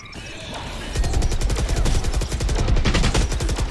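Rapid automatic gunfire from the tactical shooter game Valorant, a loud sustained burst of evenly spaced shots after a brief quieter lead-in, continuing to the end.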